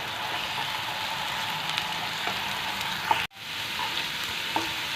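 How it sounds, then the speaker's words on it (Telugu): Onions with ginger-garlic and garam masala paste fry in a pan for chicken liver fry, making a constant close hiss with a short dropout midway. "ఆనియన్స్ మసాలా అంతా బాగా ఫ్రై అయిపోయినాయి"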